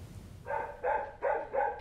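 Several dogs bark at an animal rescue shelter, four short bursts spaced roughly evenly, moderately loud and fairly close, with no talking.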